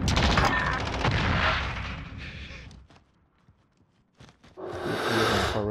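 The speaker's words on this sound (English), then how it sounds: "Still trying to shoot there." In Call of Duty: Modern Warfare, loud rapid automatic gunfire sounds in close bursts, then a near-silent pause with a couple of faint shots, then another heavy burst of firing.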